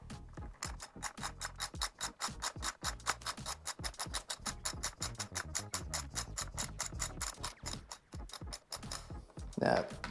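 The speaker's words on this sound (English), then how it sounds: "Use a 10mm spanner to restrain the nut at the bottom, and then a 12mm socket to loosen the bolt on top." A 12mm socket ratchet loosens a handguard bolt on a Kawasaki KLX 150 BF motorcycle, producing a fast, steady run of close, sharp ratcheting clicks for about ten seconds, with a brief louder scrape near the end.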